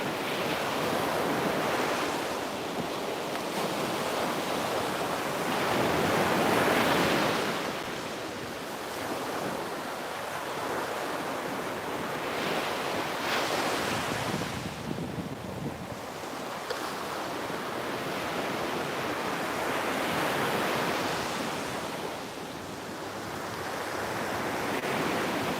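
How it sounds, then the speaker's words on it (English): Ocean waves break and wash at the water's edge in slow, rolling surges, with steady wind buffeting the microphone throughout. "once they get past the breakers here at the water's edge"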